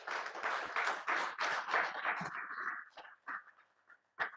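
A seminar audience applauding in a hall, a dense burst of clapping that thins into scattered claps and a final few isolated claps.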